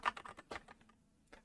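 A burst of quick, uneven keystrokes on a computer keyboard, close and fairly quiet, with a short pause before a final tap.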